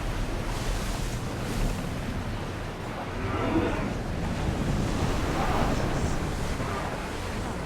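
Sailing ship in Assassin's Creed Odyssey pushing through rolling waves, with steady surf wash and wind rumble throughout, loud and continuous with no clear breaks.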